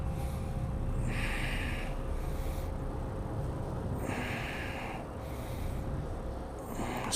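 Slow, deep breaths during a yoga twist, three long airy inhales and exhales spaced a couple of seconds apart, close and fairly quiet over a steady background hum.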